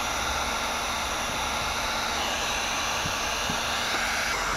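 Heat gun blowing a steady, loud hot-air roar while heating window tint film on a 2020 Porsche 911 Carrera 4S, with faint soft taps near the end.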